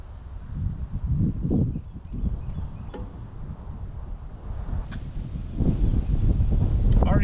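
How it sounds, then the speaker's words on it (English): Gusty wind buffets the microphone on a creek, a low rumbling roar that swells and fades across the whole stretch, with faint rustling and brief knocks. "Got a lot of wind going on too."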